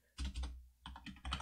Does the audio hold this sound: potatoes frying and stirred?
no